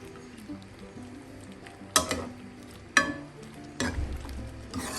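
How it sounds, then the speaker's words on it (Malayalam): A spoon stirs pumpkin mulakooshyam cooking in a pot, giving a few loud scraping strokes over a low, constant simmer and sizzle. "ഇടയ്ക്കൊന്ന് തുറന്ന് ഇളക്കി കൊടുക്കാം"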